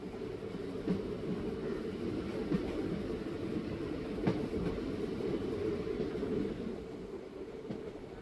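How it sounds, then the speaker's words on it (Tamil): A Coimbatore–Madurai Intercity Express runs steadily above 100 km/h, its interior filled with a continuous rumbling roar and rattle of the carriage, with faint rhythmic wheel knocks throughout. "ஸ்பீடு நல்லா 100க்கு மேலே மெயின்டைன் பண்ணி சூப்பராக ஒரு ஸ்ட்ரெச் ஃபுல்லாக அப்படியே நேராக ஓட்டிகிட்டு இருக்காங்க"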